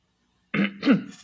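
A single short cough in two quick bursts, close and clear after a moment of silence.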